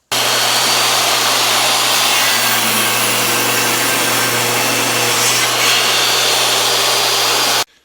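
Power saw cutting a block of walnut down to a square blank for a bushcraft knife handle, a loud, continuous rasping whine that holds steady for several seconds and then stops abruptly.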